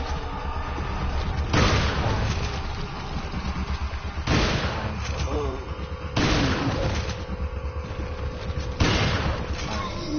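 Gunfire rings out while shooting an enemy in Resident Evil 4: four heavy, booming shots spaced a couple of seconds apart, each with a sharp attack and a lingering tail over background game ambience.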